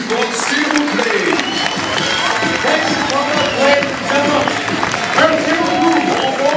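Audience applause at the close of a children's show with several performing artists, a dense steady clatter of many hands sustained throughout, with voices and children's shouts mixed into the crowd noise.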